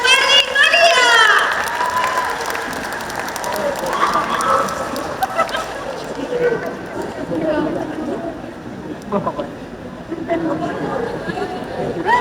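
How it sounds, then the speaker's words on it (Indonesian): An audience applauds after an academic theatre staging of Utuy Tatang Sontani's play "Bunga Rumah Makan", with cheering and voices at the start, then clapping and chatter tapering off over a dozen seconds. "sekali lagi berikan tepuk tangan yang paling meriah"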